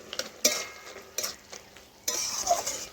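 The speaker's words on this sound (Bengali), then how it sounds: "এইভাবে দেখুন বেশ কিছুক্ষণ ধরে নাড়াচাড়া করে আমি ঘেঁটে নিতে" Kundru and potato curry being stirred in a pan with a spoon, giving a few scraping, clinking strokes against the metal with soft sizzling in between and no voices.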